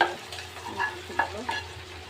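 Carrots and peas are stirred in a hot pan for chicken pasta, with a soft continuous fry and several distinct spoon scrapes at an uneven rhythm, close and fairly loud.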